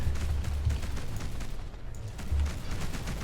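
Spaceship weapons fire in rapid repeated bursts in the Between the Stars space combat game, a rough rattling barrage that runs continuously at moderate loudness with a short lull partway through.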